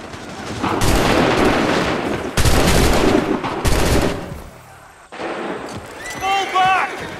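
Massed musket volleys from soldiers in the video game Assassin's Creed 3: loud crackling bursts of gunfire in several waves, dying down before a shouted command and whistling cries near the end.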